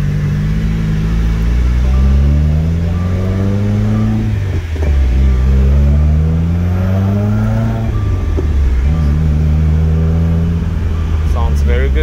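A 2017 Subaru WRX with 70k miles accelerates through a U-turn, its engine note climbing through successive rising sweeps as it revs up, shifts and revs again, loud and close throughout.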